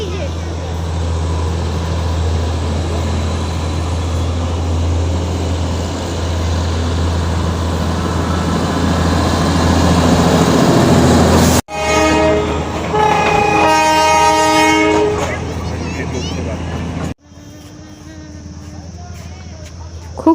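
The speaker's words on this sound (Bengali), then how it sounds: "আর এখন এখানে টয় ট্রেন যাবে" The Darjeeling toy train passes Batasia Loop with a steady, close mechanical rumble, then sounds its horn in several loud, tonal blasts. Voices of people nearby can be heard around it.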